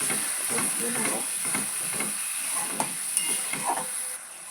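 Paste made from two medium tomatoes sizzles as it is cooked down in a pan, a soft, steady hiss with light scraping and stirring strokes, fairly quiet throughout.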